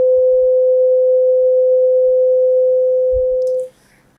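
Short tuning fork rings with a single steady pure tone, loud and clear, sustaining for several seconds before cutting off, with faint background noise.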